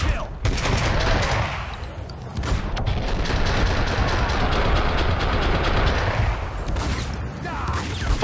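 Sustained bursts of automatic gunfire from a Max Payne 2 shootout roar continuously, with a brief lull and then more rattling fire, loud and dense.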